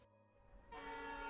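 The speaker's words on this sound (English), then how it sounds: "I think that's the train." A train horn during a one-act stage play sounds after a brief lull, rising into a sustained, chord-like blare that continues to the end, fairly faint and distant with no voices.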